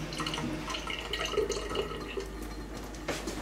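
Boiling water trickling and dripping steadily through a narrow soft homebrew tube to sterilise it, soft and close, with small gurgles and splashes throughout.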